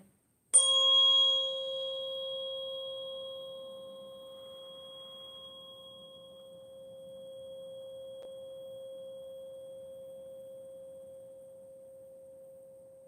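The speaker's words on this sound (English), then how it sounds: "this tuning fork is 428 hertz, which is supposed to be healing. So, listen to this one." A 428 Hz tuning fork is struck once and rings alone as a steady pure tone with faint overtones, loud at the strike and slowly fading over about twelve seconds in a quiet room.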